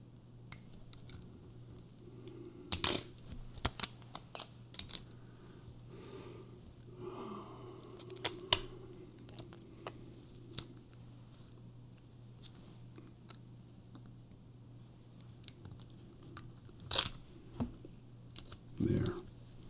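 A crafting knife trims cardstock for an O scale wooden ice house model, producing scattered short, sharp cutting clicks and scrapes at close range, with quiet pauses and a low steady hum between them.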